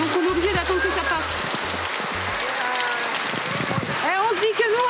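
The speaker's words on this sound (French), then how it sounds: "Là, il pleut vraiment trop fort, là." Heavy rain pours steadily during a bicycle trip through Europe, a dense continuous hiss of drops on surfaces close by, with a person talking over it.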